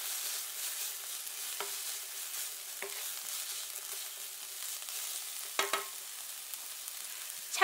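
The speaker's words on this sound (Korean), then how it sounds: "색이 이쁘게 색이 너무 빠지지 않게 볶아주세요." Sliced green bell peppers stir-frying in a wok, a steady quiet sizzle broken by a few sharp scraping strokes of the spatula, with no talking.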